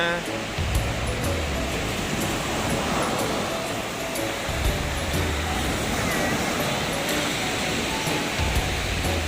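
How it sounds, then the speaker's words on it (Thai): Morning sea waves wash onto the beach at Hua Hin, a steady broad roar with slow swells of surf, heard close and continuous with faint background noise. "ชมเสียงคลื่นแสงแดดยามเช้ากันนะคะเพื่อนๆ"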